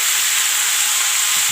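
Rice stirred in a pan together with vermicelli gives a steady, close, grainy sizzling rustle that continues without a break.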